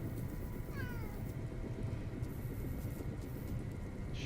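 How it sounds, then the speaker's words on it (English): A single short meow from a cat rises over steady low background hum and rumble, fairly faint and brief, with no talking. "I'm being distracted by my cat"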